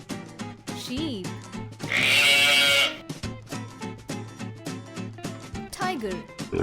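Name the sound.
sheep bleating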